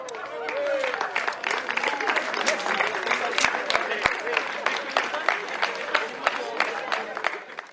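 An outdoor crowd applauds at a military reenactment event, steady dense clapping with sharp individual claps standing out, fairly close and loud throughout.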